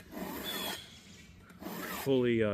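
A few rasping file strokes sharpening a saw tooth, close and fairly loud, with a brief tonal ring near the end.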